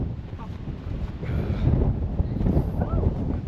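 Strong gusting wind on Arthur's Seat in Edinburgh buffets the microphone in a continuous low roar that swells midway, with faint voices in the background.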